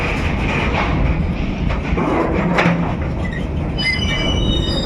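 A train rumbles steadily past at close range across the Nashipur rail bridge in Murshidabad, wheels grinding on the rails, with high metallic squeals rising toward the end.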